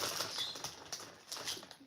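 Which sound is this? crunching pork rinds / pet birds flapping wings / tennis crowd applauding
pet birds flapping wings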